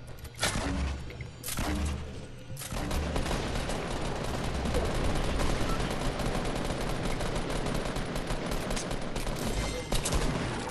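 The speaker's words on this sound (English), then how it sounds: "Hey, who's shooting at me." Heavy, continuous gunfire in the video game Fortnite during a squads match: dense overlapping shots and rapid bursts, loud and nearly unbroken for most of the stretch, with faint voices barely present.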